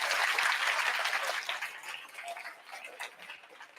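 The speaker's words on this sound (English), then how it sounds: "Give yourselves a round of applause." An audience at a children's book awards ceremony applauds, loud and dense at first, then thinning and fading over a few seconds into scattered claps.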